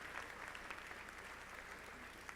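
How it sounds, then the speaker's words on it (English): Audience at a graduation keynote address applauding, a dense, even patter of many hands clapping steadily at a distance, fairly faint, with no speech over it. "Give that concept a round of applause"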